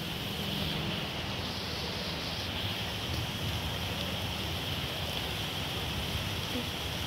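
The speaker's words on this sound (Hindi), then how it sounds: "और इतनी ज़्यादा बारिश हो रही है," Heavy rain falls in a constant, broad roar during a storm with lightning, steady and unbroken throughout, with faint wind buffeting the microphone.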